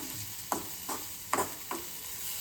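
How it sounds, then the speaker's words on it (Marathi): Makhana (fox nuts) being sautéed in a pan give a low, steady sizzle broken by four quick spatula scrapes in an uneven rhythm, fairly faint and without voices. "आणि हे दोन्ही आपलं छान खमंग परतून घ्यायचं आहे आपण"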